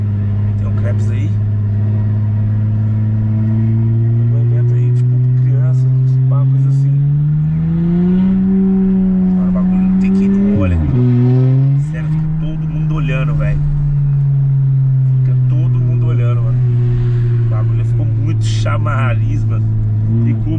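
A loud Porsche Panamera engine revs up and settles in repeated surges, its deep rumble rising and falling close by while people talk over it.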